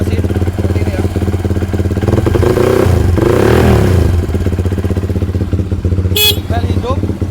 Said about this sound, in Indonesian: Suara mesin seperti ini ya.